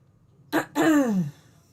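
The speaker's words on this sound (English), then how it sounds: "I'm going to apologize in advance for all the coughing and the clearing of my throat" A short throat clearing: a brief rough catch followed by a longer, grating rasp that fades out, close and alone in a quiet room.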